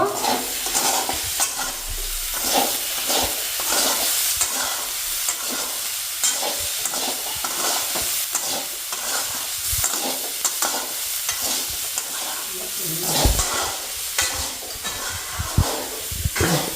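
Potatoes frying in a pan with turmeric and salt are stirred, giving a steady close sizzle with repeated scraping strokes of the spoon throughout.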